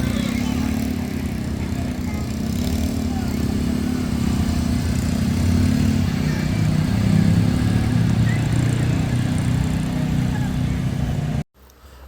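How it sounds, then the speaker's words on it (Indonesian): Intercity Trans-Sumatra bus travelling from Sibolga to Padang Sidempuan on an emergency road at a flood-damaged site in Garoga, its loud engine rumbling steadily close by before cutting off suddenly near the end. "bus antar lintas Sumatera terpantau sudah masuk melintas di jalan darurat di daerah Garoga"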